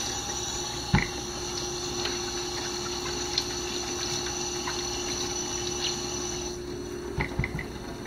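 Patty pan squash rinsed under a running tap, a steady stream of water with a few knocks and clatters as the vegetables are handled, no voices.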